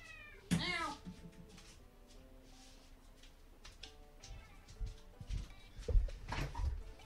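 A chubby pet cat meowing near a closet, with a sharp loud meow early on and then softer, drawn-out meows and grumbles, under quiet background game sounds.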